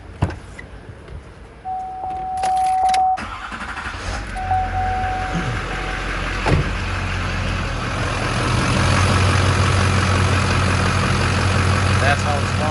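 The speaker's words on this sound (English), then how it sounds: "you'll see the compressor kick on" A Chevrolet GM car engine idles steadily, with a low mechanical hum that rises and settles as the AC compressor engages, a brief tone sounding early on.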